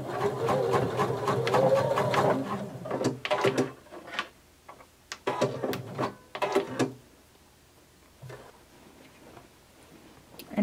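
A sewing machine runs in bursts while stitching a half-inch hem around a pair of shorts, pivoting at the needle, with clicking pauses between runs and a quiet stretch near the end.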